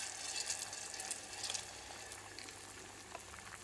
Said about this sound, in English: As you see, it begins to boil.